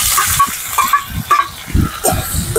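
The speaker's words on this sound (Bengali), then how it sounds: "দিয়ে এটাকে আমি কিছুক্ষণ ভেজে নেব" Grated onion, garlic, ginger and chili paste with black cumin seeds frying in a pan, a close, steady sizzle and hiss with scraping stirs and low knocks through it.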